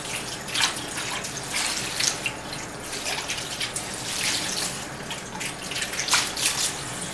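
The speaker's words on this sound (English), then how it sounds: "So now we're going to rinse them off." Tap water runs steadily over grapes stemmed the day before as they are rinsed in a pail, a continuous splashing wash with small surges and drips and no talking.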